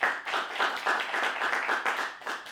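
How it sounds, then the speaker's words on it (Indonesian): An audience at a stand-up comedy show claps steadily for a few seconds, a moderately loud, even patter of many hands. "tepuk tangan dulu dong buat kita semua di sini"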